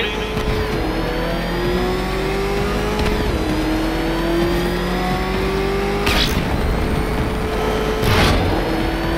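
The Batmobile's engine in Batman: Arkham Knight revs and climbs through rising pitch sweeps, drops back, and repeats, with two sharp bursts of noise partway through. A loud, close, steady mechanical roar fills the whole stretch.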